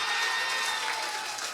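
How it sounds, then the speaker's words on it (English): Audience applause from boys and girls at a school celebration feast, a dense steady wash of clapping throughout, fairly even in loudness and with no talk over it. "Give them a big round of applause."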